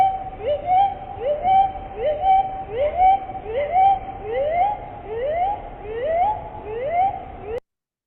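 Bird song slowed down, revealing the two sides of the syrinx as a ping-pong pattern: a steady tone overlaid with a run of about a dozen evenly spaced rising chirps, alternating and repeating for several seconds before an abrupt stop.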